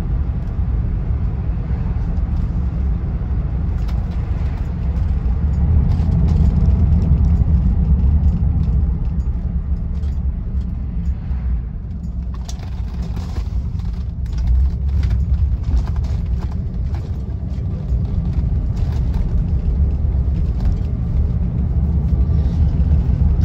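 A 1976 Rolls Royce Silver Shadow I drives along with a low, smooth engine rumble and road noise heard from inside the car, steady and moderately loud for the whole stretch with faint ticking higher up.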